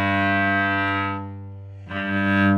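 Violin bowed very close to the bridge, giving a harsh, glassy sustained tone with dense upper harmonics, one long stroke fading then a second stroke starting, played solo up close.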